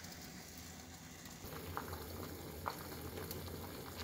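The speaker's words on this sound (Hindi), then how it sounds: "पानी जो हमारा उबलना शुरू हो गया" Water with lemongrass coming to a boil in a kitchen pot, a steady soft bubbling hiss with a few small pops, heard alone and fairly quiet.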